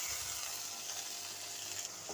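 Boiled plantain stirs in a pan over a steady, fairly quiet hiss of hot oil. The stirring sounds are soft and continuous, and no voice is heard.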